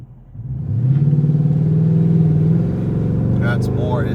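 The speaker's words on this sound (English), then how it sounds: "it's going to rev a little more before it takes off, and that's your converter" Car engine with a torque converter revving up before pulling away, a steady mid-pitched drone that climbs and holds loud and close, then eases off as someone talks over it.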